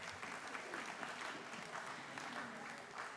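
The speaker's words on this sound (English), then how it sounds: "So yes, applause for the clean garbage truck." Audience at a lecture in Santa Barbara breaks into applause for a clean garbage truck, a steady patter of clapping from a modest crowd, moderately loud and even for a few seconds.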